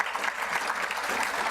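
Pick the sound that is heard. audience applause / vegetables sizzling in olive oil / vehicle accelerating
audience applause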